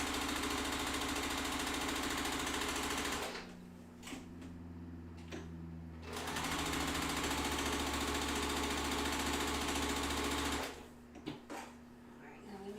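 A sewing machine re-stitches the start of a quilt square: a fast, even mechanical whirr that runs, stops for a couple of seconds, runs again for several seconds, then cuts off near the end.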